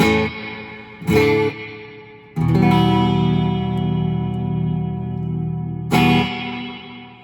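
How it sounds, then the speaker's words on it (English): Guitar chords ring out through a reverb pedal, each strike trailing off in long washy tails; several strums with sustained decays, no talking. "So the more you turn the silver knob, the more reverb you get."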